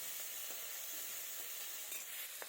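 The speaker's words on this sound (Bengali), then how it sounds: "তো মাছটা ভাজা আমার প্রায় হয়ে গেছে।" Fish frying in hot oil in a pan, a steady soft sizzle with faint crackles and occasional light pops, close and continuous with no talk.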